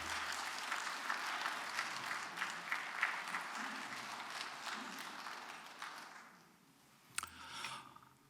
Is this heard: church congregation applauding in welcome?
yes